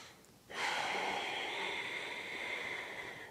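A long, steady exhale of breath during a qigong breathing exercise, a soft airy rush starting abruptly and holding evenly for about three seconds, close and alone without speech.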